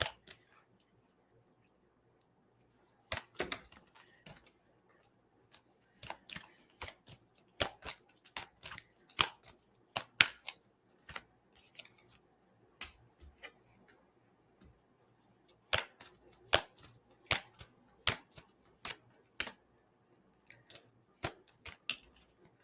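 Tarot cards being pulled and handled from a deck, giving a run of sharp, close, irregular snaps and flicks in bursts with brief pauses, no talking.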